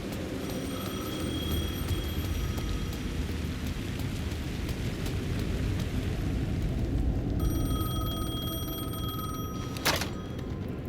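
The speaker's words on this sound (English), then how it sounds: "The phone was ringing again." Steady rain and low rumbling storm noise fill the scene in Alan Wake 2 while a telephone rings in repeated trilling bursts over it, fairly faint against the downpour, with a brief sharp crack near the end.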